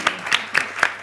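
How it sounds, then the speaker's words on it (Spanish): Four sharp, separate hand claps spaced roughly a quarter second apart, close and fairly loud, with a quiet pause between each, at a talk on children's literature. "Ya pueden aplaudir."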